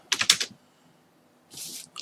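A short burst of computer keyboard typing, several quick close keystrokes, then a pause and a second brief flurry of keys, heard alone in a quiet room.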